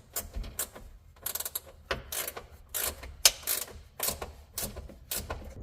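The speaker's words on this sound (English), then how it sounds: "and then tighten up those nuts." A hand ratchet tightens nuts while tow hooks are installed on a 2020 RAM 1500 fifth generation, giving repeated short bursts of clicking in an uneven rhythm, fairly quiet and close with no talk.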